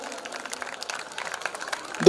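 Clapping from a crowd at a school ceremony honouring a prize-winning student, steady dense applause across the clip with a louder burst at the very end.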